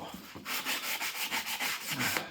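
Sandpaper rubs back and forth along a routed quarter-inch roundover wood edge, about a dozen quick, rhythmic scratchy strokes, close and fairly loud, with no talking.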